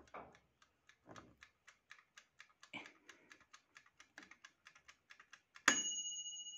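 A Mika gas oven's mechanical timer ticks steadily and quietly, then ends with a single bright bell ring that rings on and fades, close by with no talking.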